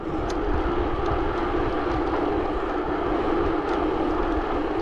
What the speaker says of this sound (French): si on force pas sur le moteur